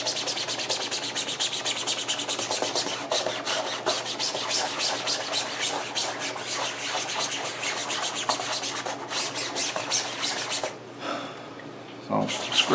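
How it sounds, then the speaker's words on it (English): Hard, fast scrubbing of fabric to work a ranch dressing stain out of clothing gives a steady rhythmic rubbing rasp. It is loud and close, then pauses briefly near the end. "So I'm scrubbing pretty hard here."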